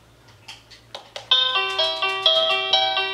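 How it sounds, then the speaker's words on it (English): Color LCD monitor doorbell chiming at its default volume: a few soft clicks and blips, then a clear bright electronic ding tone with rhythmic repeated pulses, close and alone. "I'm going to press the doorbell"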